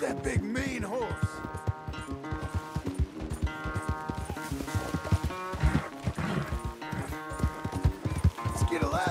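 Horse hooves clip-clop in a corral in Red Dead Redemption 2, heard under game music with a harmonic score, with voices speaking over the steady hoof rhythm.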